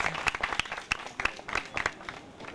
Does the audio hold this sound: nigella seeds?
no